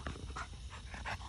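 A dog, an import from Tomorac in Serbia, pants softly in short quick breaths, faint and close, with a slight whimpering edge.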